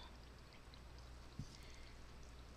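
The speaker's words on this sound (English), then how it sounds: "Let the water run over the top." Water runs steadily over a resin mix in a craft project, giving a soft, continuous pouring hiss that stays even throughout, with one small splash partway in.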